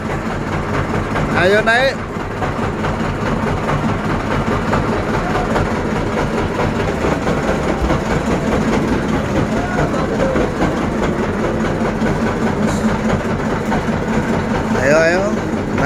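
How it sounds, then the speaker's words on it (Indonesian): The engine of a passenger boat near Pulau Panjang, Jepara idles with a continuous rumbling chug while people chatter and board around it. "Ini mesin sudah bunyi, kita sudah berada di perahu."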